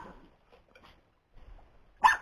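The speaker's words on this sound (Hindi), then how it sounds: "क्यों भौंक रहे हो भाई," Dog barking once, a single short sharp bark near the end after a few faint whimpers, reasonably close in an otherwise quiet outdoor setting.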